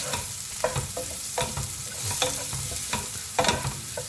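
Capsicum being stir-fried on high heat in a pan, an even crackling sizzle punctuated by rhythmic scraping and tossing strokes, close and lively, with no voices.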